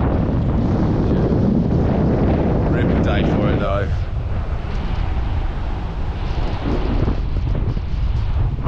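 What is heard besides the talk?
strong wind on microphone at fishing spot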